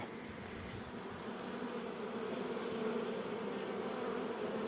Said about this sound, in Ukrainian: Все, рій вже броєловці.